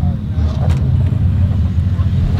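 Apollo IE supercar at a car meet, a deep, loud engine rumble running close and continuously with crowd noise and voices mixed in over it.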